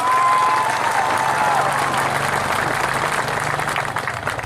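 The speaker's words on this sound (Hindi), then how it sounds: "उसको भी ताली मिलना चाहिए।" Crowd applause at a protest gathering against the Citizenship Amendment Bill, a dense wash of many hands clapping steadily and loudly throughout, easing slightly toward the end.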